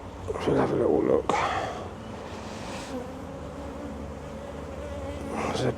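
Honey bees hum around an open hive during a spring hive inspection, a continuous buzz with a soft voice speaking over it early on, then louder buzzing again at the close.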